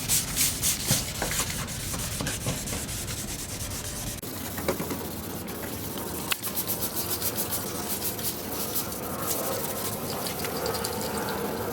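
Wet sanding of a yellowed car headlight lens by hand, a steady rasping scrub repeated in quick strokes, close and fairly loud, with short pauses and a brief tap partway through and no talking.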